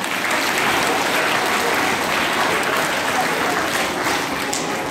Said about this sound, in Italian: anche lì un applauso per il comune che ci vuole